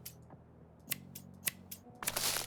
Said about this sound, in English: We just need to snip the bud.